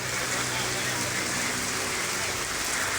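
Rain falling at Manila Bay, a steady broadband patter close and constant throughout, with a voice talking faintly beneath the downpour.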